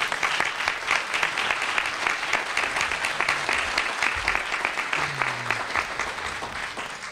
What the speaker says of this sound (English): So we ask you to give a round of applause